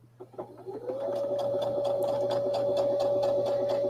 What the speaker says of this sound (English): Press my seam like that and go ahead and start sewing again.